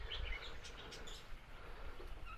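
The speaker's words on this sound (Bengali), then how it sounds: "এ দেখুন রং বেরঙের পাখি তার মধ্যে বেশিরভাগটাই টিয়া পাখি" Parakeets and other colourful birds chirp and call in short, scattered bursts at a garden retreat, faint and fairly distant over a low background hum.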